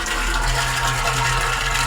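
Water gushing strongly from the outlet of a 1 horsepower water pump motor during a pump replacement, a steady loud broadband rush with a low motor hum beneath, continuous and close.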